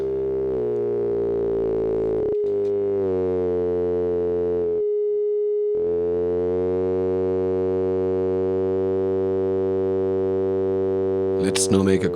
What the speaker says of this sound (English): This soft sync mode cause the waveform to go into a reverse direction.